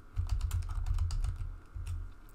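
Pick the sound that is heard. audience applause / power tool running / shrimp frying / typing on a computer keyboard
typing on a computer keyboard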